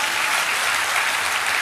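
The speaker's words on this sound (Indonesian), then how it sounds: "Tepuk tangan dong biar saya juga semangat." A church congregation breaks into loud, dense applause, a short burst of many hands clapping at once, sustained evenly and heard without talk over it.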